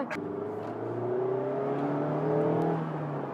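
Mazda MX-5 Miata RF engine heard from close by while driving, a steady droning note that slowly climbs in pitch as it pulls, loud and continuous with no talking.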